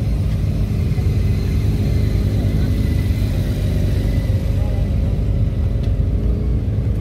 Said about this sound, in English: I'm going down here to see all these bikes so I can see them all going out.